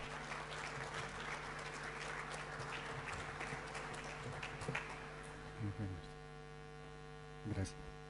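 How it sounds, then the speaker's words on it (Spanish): A university audience at a lecture applauds a guest speaker, sustained clapping over a strong mains hum that fades after a few seconds, leaving the hum with brief voices and bumps. "un fuerte aplauso al licenciado César Ramiro Cladera González"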